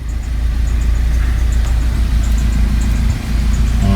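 A 2018 Hyundai Accent engine idles steadily after a head gasket replacement, a loud, continuous low rumble close to the car with a slight dip near the end and no talking.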